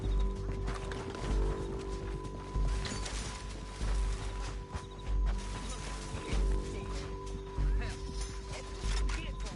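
Horses moving in Red Dead Redemption 2: steady clip-clop hoofbeats in a repeating rhythm, fairly quiet and close, under a game soundscape with a faint steady hum.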